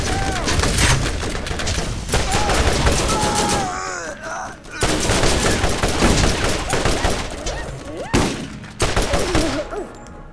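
Gunfire in the video game Borderlands: dense, loud bursts of shots and rapid fusillades fill most of the span, broken by two brief lulls.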